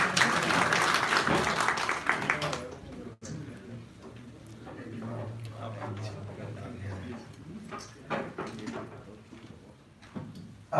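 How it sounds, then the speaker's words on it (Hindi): Audience clapping at a meeting, a burst of applause for about two and a half seconds that stops abruptly, followed by talking and room noise. "ये ताली कम बज रही हैं।"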